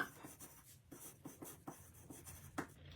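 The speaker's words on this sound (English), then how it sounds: "let me write on this top flap" Pen or marker writing on a paper flap of a hidden-flap craft page, a quiet run of short scratchy strokes in an irregular rhythm, close by with no talk.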